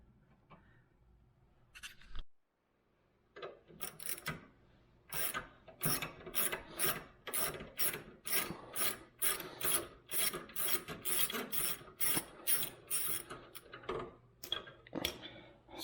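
A wrench works loose a brake line bolt on a 2000 Acura 3.2 TL during a rear brake job, a faint, rapid series of ratcheting clicks repeating in short rhythmic bursts close by.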